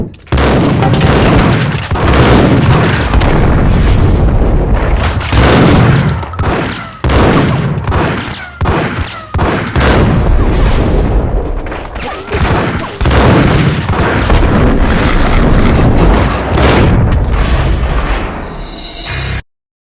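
Heavy gunfire and explosions in the Max Payne video game: loud, continuous bursts of shots mixed with booming blasts in repeated waves for nearly twenty seconds, with no talking.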